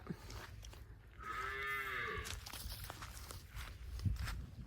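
A dairy cow at a farm with cows for sale gives a single drawn-out moo, clear and moderately close, rising then falling over about a second, with faint shuffling and background farm noise around it.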